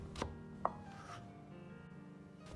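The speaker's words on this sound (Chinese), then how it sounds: "大葱适量切成片" A knife slices green onion on a chopping board for a lamb spine stew, with a few sharp, separate cuts against a quiet background.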